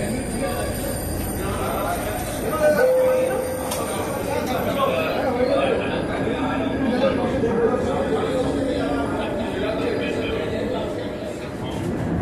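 Steady wheel rumble and carriage noise fill a Kolkata metro train on the Howrah to Airport run, continuous and close, with someone narrating over it and faint chatter behind.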